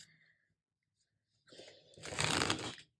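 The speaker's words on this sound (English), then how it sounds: "give me a moment as I shuffle the cards" Crisp riffling and crackling of tarot cards being shuffled close up, a short burst after a quiet pause, with a faint voice murmur at the start.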